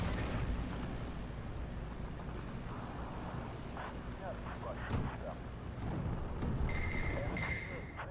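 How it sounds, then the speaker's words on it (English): Mortar shells explode in Steel Division 2 during a Soviet campaign battle at Baranavichy, a dense, continuous rumble of distant booms and blasts layered over one another. "It's just mortars everywhere at the moment."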